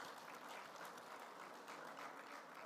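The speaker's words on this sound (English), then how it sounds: "Let's give ourselves a round of applause." Delegates at Rwanda Mining Week in Kigali Convention Center break into sustained applause, an even, dense clapping from a large crowd heard at low level throughout.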